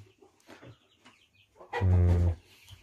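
Chickens in a coop give soft, scattered clucks, then a loud, close, drawn-out squawk from one bird before quieter clucking returns.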